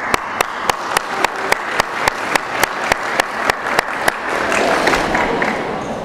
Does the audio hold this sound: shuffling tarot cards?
no